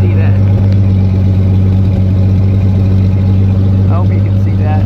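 A car engine idling loudly with straight-piped exhaust on a cold start, a deep steady rumble close up with someone talking over it.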